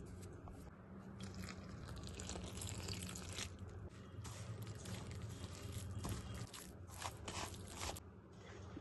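Batter of flour and water for a healthy breakfast being stirred by hand, a steady wet squishing and sloshing with soft slaps throughout, close and continuous.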